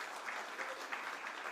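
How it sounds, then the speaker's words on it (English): A round of applause at a stock listing ceremony for an asset management company, a steady wash of clapping that sounds somewhat distant and fairly quiet, with no talk over it. "Loud round of applause, please."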